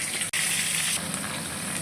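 Cauliflower pieces fry in hot oil in a kadai, the oil already used for frying fish and tempered with cumin, dried red chili and bay leaf, giving a steady, dense sizzling hiss with a brief break near the start.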